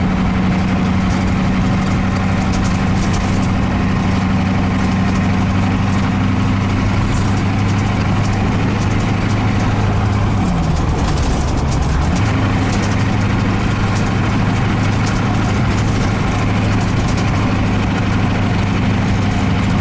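A diesel van's engine drones loudly and steadily while driving, with a deep low hum and a rough mechanical rumble that briefly dips and shifts midway before settling back, and no voices.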